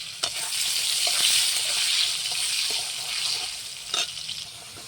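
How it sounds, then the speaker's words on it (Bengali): Potatoes frying in hot oil, a steady close sizzle with soft stirring scrapes and a few brighter crackles throughout. "কি গরম হয়ে গেছে তেল। আলুগুলো সুন্দর করে ভেজে নেব।"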